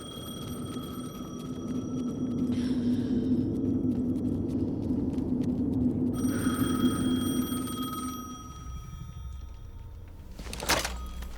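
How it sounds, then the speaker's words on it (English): A telephone rings in the video game Alan Wake II, a repeating electronic ringing tone over a low droning ambient hum, moderately loud with no talk. "The phone again."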